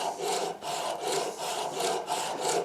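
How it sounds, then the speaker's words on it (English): A sandpaper strap works back and forth in a tight inside corner under an edge while restoring a 1949 American steel-head screwdriver. The strokes are loud, close, steady and rhythmic, about six in quick succession. "That will allow me to just sand very tight corner inside under this edge."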